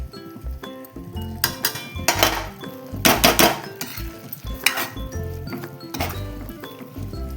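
A spoon stirs curd and eggplant curry in a metal pan, giving repeated irregular clinks and scrapes of utensil on metal in bursts, close up, with no talking during the stirring.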